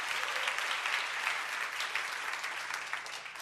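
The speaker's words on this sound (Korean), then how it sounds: "우리 드라마 팀을 위해서 한번 다시 박수 부탁드릴게요." A church congregation applauds a drama team at a Sunday service, a steady, dense clapping from a large crowd that stays loud and even throughout.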